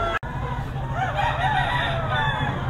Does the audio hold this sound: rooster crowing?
yes